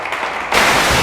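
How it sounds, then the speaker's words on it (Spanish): Congregation in a church breaking into loud applause, a broad sustained burst of clapping that swells partway through and holds steady near the listener. "Le damos un fuerte aplauso a Dios. Déselo fuerte, fuerte, fuerte"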